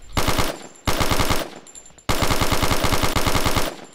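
Rapid automatic gunfire from a first-person shooter game, loud bursts of fast, evenly spaced shots separated by short pauses, with no voices over it.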